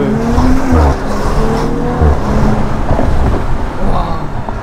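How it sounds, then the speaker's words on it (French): A 530 hp Audi RS5 R ABT with a reworked exhaust accelerates hard, its loud, deep engine note climbing through gears with a brief shift dip, heard from inside the car while people talk over it. "l'échappement retravaillé comme ça, c'est juste une folie"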